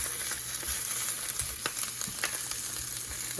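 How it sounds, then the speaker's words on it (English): Johnsonville mild Italian sausages brown in oil in a pan for stuffed pasta shells, producing a steady close sizzle with scattered crackles and pops. "So we're just gonna add a little bit of oil in there just so it doesn't stick."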